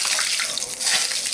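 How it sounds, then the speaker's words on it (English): Water pouring in a continuous, splashy stream close by for a moment, bright and steady without a break. "Water, just a little bit of water."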